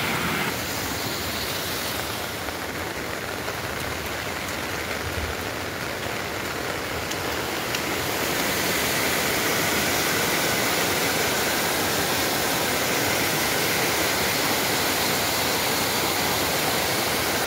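A loud, continuous rush of floodwater from heavy monsoon rain roars steadily and close, building slightly partway through and never letting up.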